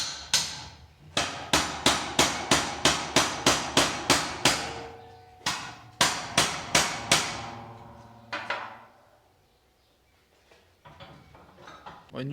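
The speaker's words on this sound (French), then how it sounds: "j'ai dû taper quand même au marteau pour que ça fasse un bel angle et tout" Hammer blows on folded metal sheet being shaped into a bearing puller for a Solex: two fast, steady runs of ringing metallic strikes, loud and close, then a trailing ring and quiet.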